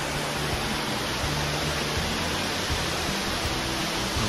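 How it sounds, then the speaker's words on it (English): Steady, dense roar of a waterfall seen from a scenic road, a loud broadband rush with constant low rumble and no pauses, filling the whole stretch alone. "Look at that beautiful waterfall."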